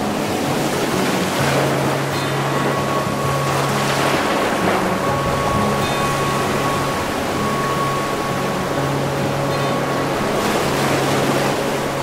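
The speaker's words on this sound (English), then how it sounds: "the frothy green waves of the sea" Continuous roar of ocean surf breaking at Kenting, Taiwan, with waves washing in, mixed with a low engine-like hum and wind, loud and unbroken throughout.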